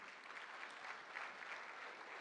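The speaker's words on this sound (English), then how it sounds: "Let's give them a warm round of applause," Warm applause comes from guests at a company anniversary gala, a faint and distant, evenly sustained wash of clapping with no talk over it.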